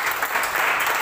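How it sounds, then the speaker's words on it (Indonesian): Applause from a church congregation, a dense steady patter of many hands clapping throughout, fairly loud and without pause. "Beri tepuk tangan yang terbaik."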